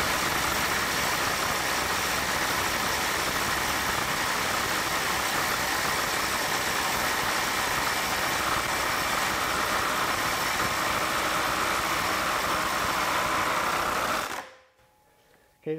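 A Ryobi P262 mid-torque impact wrench, 6 amp-hour battery, runs in reverse at 600 foot-pounds, a steady loud hammering buzz held for about fourteen seconds before stopping abruptly.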